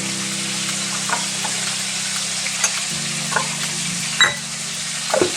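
Cauliflower florets and potato pieces fry in hot oil for a katla fish curry, giving a steady, even sizzle throughout. Occasional soft clinks and scrapes from stirring break through the sizzle, with no talking.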